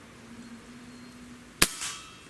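A bullpup rifle round strikes the cap of a glass bottle: one sharp, loud crack with a brief ringing tail after a quiet stretch of low, steady hum.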